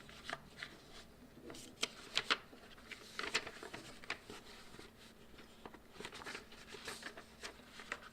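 Quiet rustling and crinkling of paper being shuffled and handled, a series of soft, irregular crackles close by.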